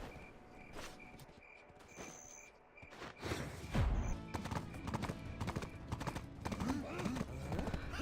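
Horse hooves clip-clopping with a brief whinny in the video game Black Desert Online, a freshly tamed mount trotting steadily against ambient insect chirps while a person talks throughout.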